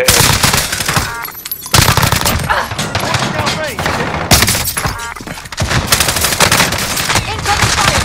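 Heavy machine-gun fire in a military shooter video game: dense, loud bursts of rapid shots that run almost continuously, broken by a couple of brief pauses, with faint voices underneath.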